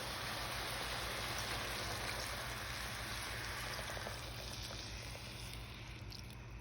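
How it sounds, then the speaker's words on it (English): A cup of water poured into a pan of steak, potatoes, onions and peppers gives a steady, quiet rushing hiss that eases slightly near the end, with no voices. "I'm going to add 1 cup of water."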